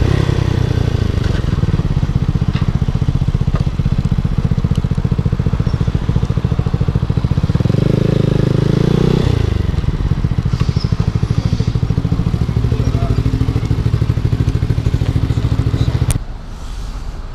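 Boom Vader Grom-clone small motorcycle riding, a steady loud engine drone with a brief rise in revs midway, wind rumble throughout, then a sudden drop near the end.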